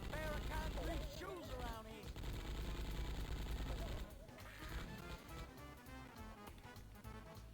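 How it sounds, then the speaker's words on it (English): Rapid automatic fire from a Tommy gun in the video game Gex 3, loud bursts rattling almost continuously with a brief drop in intensity partway through, layered over game music and effects. "Tommy guns are so classic."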